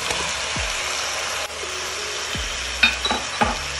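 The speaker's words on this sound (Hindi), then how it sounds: "थोड़ा सा हमने फ्राई करना है ताकि इसका लहसुन तक जो है थोड़ा सा भुन जाए" Garlic frying in a pan for prawn biryani, a soft steady sizzle with a few metallic scrapes and clinks of a spoon against the pan, no talking.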